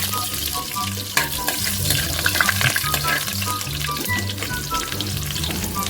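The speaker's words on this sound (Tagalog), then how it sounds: "Pisa natin sa bawang." Garlic frying in hot cooking oil for a Filipino sautéed chayote and tuna dish, a steady broad sizzle with faint stirring and clinks, over a low repeating music bed, no talking.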